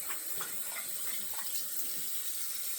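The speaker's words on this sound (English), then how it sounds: "We're gonna rinse this out here since we have 22 minutes" Water runs steadily from a bathroom tap into a sink while a shaving brush is rinsed, a soft continuous splashing with light irregular spatter, fairly quiet and alone.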